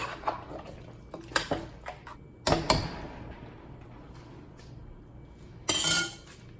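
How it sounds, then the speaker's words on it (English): A spoon clinks and scrapes inside a pot while Haitian legume vegetable stew is stirred, with scattered sharp knocks and clatters between quieter stretches. "So now I'm gonna stir everything together."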